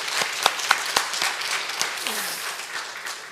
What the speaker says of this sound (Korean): 우리 하나님께 감사의 박수 함께 올려드리겠습니다.